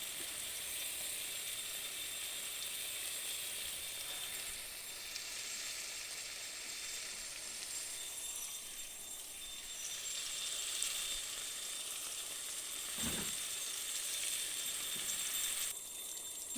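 Fish pieces for lote mach sizzle steadily in a pan of cooked onion masala over a low gas flame, a constant close crackle and hiss with one brief louder clatter near the end.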